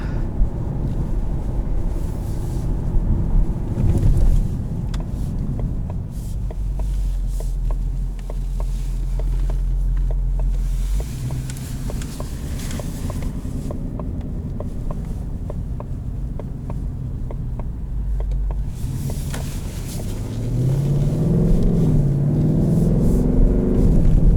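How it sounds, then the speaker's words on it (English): A 2019 Ford Mustang GT California Special V8 engine drones steadily from inside the cabin, a low, loud rumble that builds and climbs in pitch toward the end, with road and wind noise underneath and no talking. "And I'll just turn around, that way we can get an acceleration."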